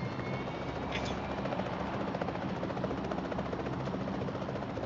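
A helicopter in PUBG Mobile makes a steady, loud, throbbing rotor drone that fills the whole stretch. Voices speak faintly underneath it.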